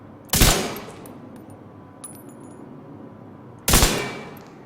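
Two loud, sharp bursts of gunfire a few seconds apart in The Division 2, each decaying quickly, with quieter game ambience in between.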